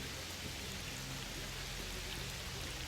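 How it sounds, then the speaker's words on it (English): Heavy rain from S.T.A.L.K.E.R. Shadow of Chernobyl with enhanced rain effects, a dense, constant hiss of falling water that stays even from start to end. "it definitely enhanced the rain effects."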